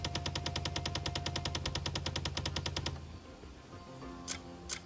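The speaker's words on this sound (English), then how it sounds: "Sounds like a machine gun." Rapid machine-gun-like rattle in the Crimson Desert video game, a loud, fast, evenly spaced burst of clicks that runs for about three seconds and then stops abruptly, leaving quieter game ambience with a couple of faint chimes.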